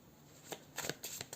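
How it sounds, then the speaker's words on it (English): Tarot cards being shuffled by hand, a few quick, crisp riffling bursts close by against a quiet background. "I'm gonna shuffle and see what comes through."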